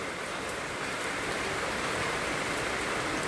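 Rain pours down in a dense, even hiss on surfaces nearby, a steady, unbroken downpour with no voices.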